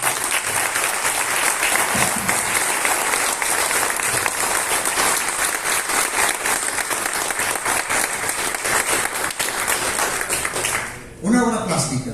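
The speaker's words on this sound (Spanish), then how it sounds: "pido un merecido aplauso" Sustained, full-bodied applause rolls through a legislative council chamber at a National Plastic Artist's Day ceremony, a steady roar of clapping for about eleven seconds before it drops away and a voice begins speaking.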